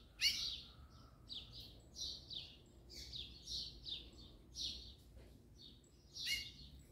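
A yellow-bellied seedeater sings a rapid series of high, thin chirps and twittering phrases, repeated in short bursts with brief gaps, fairly close.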